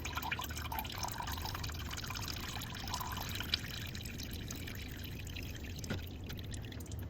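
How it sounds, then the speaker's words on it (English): Engine oil drains from the oil filter of a 2007 Ford Focus, a steady, faint pouring trickle with light drips running continuously at close range, with no voices. "And we'll let the oil filter drain."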